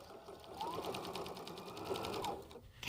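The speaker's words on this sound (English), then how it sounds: "let's go ahead and take it to the machine and sew 1/4 inch down each side that we pinned." A sewing machine sews a quarter-inch seam along a pinned placemat edge, giving a short, steady burst of rapid stitching for a couple of seconds, close and moderately loud.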